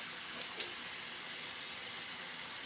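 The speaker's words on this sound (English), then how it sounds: "All right, the cast iron is warming up. I just splashed a little water on it" Water splashed onto a warming cast iron pan sizzles in a faint, steady hiss that holds evenly throughout without breaks.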